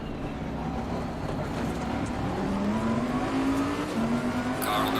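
Race car engines in the sim racing game Assetto Corsa Competizione drone steadily, one engine note climbing in pitch as it accelerates, loud and continuous with no talk.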